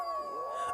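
Dogs howl at night in a village, a long wavering howl holding steady and sliding in pitch, moderately loud and close, with no voices over it.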